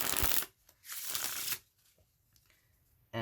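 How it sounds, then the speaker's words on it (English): A deck of playing cards is shuffled close up in two quick riffling bursts, followed by soft handling taps and a final brief riffle. "So we'll just give the deck a shuffle."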